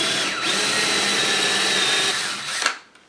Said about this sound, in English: Take the drill bit that they give you with the kit and drill a hole there